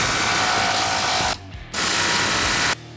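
Ratchet clicking steadily while loosening the radius arm bolts on a Honda Talon 1000 side-by-side, loud and close, stopping briefly mid-way before resuming.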